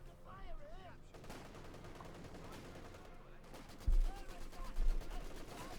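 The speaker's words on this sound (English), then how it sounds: "Heavy shooting there" Gunfire rattles through a Company of Heroes 2 battle, distant machine-gun bursts under a commentator's steady talk, with a louder blast near the end.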